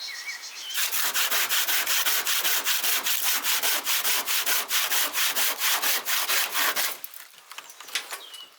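Saw strokes cut through a timber roof batten in a fast, regular back-and-forth rasp, loud and close for about six seconds before stopping, then a few light knocks follow.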